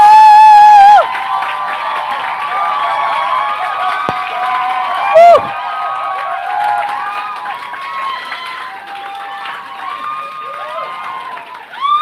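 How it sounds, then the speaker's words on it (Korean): An audience at a startup school event greeting a guest speaker with cheers and applause, loud shouts and whoops rising at the start and tapering, mixed with an announcer's amplified voice. "함성 박수 부탁드릴게요."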